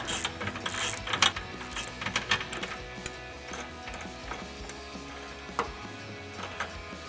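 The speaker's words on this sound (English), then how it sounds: "You wanna be loosening with the ratcheting wrench and tightening with your ratchet here." An 18mm ratcheting wrench loosening a bolt on a 1994-2004 Ford Mustang's suspension, giving irregular bursts of quick mechanical clicks and metallic ticks, close and moderately loud, with quieter pauses between the bursts.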